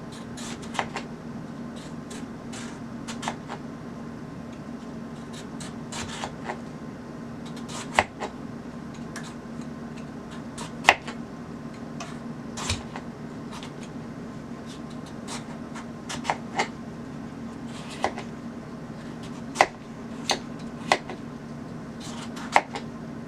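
Small knife slicing cleaned pawpaw into strips, giving scattered sharp cuts and taps against a board, irregular and close, over a steady low hum with no talking.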